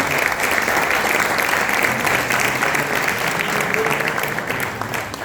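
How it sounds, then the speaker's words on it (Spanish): Steady applause from an audience at a round-table panel, a dense even wash of many hands clapping at once, sustained and fairly loud before tapering slightly at the end, with no talk over it. "un fuerte aplauso para Albina"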